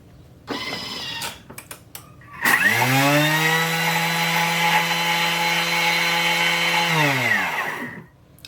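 White sugar whizzed in a blender into caster sugar: a loud, steady motor whine for about four seconds. It ramps up sharply, holds, then winds down, with brief rattling bursts before it starts.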